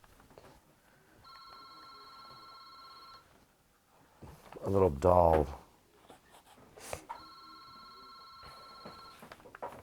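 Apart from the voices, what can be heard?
telephone ringing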